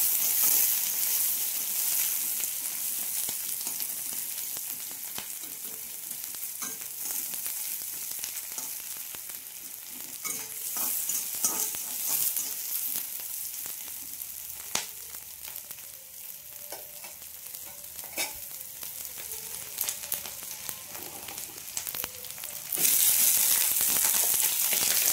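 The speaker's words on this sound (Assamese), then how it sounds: "গাজৰ মূলা আলু অকণমান তেলত ভাজিছোঁ" Carrot, radish and potato frying in a little oil, giving a steady, close sizzle with occasional crackles and stirring scrapes that runs continuously with no talk.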